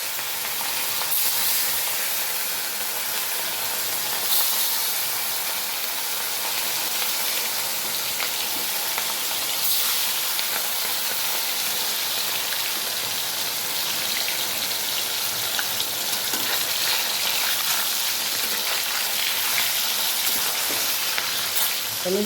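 Pieces of katla fish fry in hot oil in a slightly scorched wok, giving a steady, dense sizzle that carries on evenly throughout with no talking.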